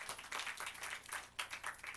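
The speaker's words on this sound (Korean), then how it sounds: "그래 박수 박수해." Scattered people clap at a Korean morning Bible meditation gathering, faint and somewhat distant, with soft uneven bursts of clapping throughout.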